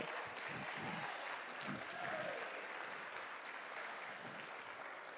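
An audience at a gaming tournament event claps steadily for the players in a hall, a continuous, moderately distant round of applause with faint voices underneath.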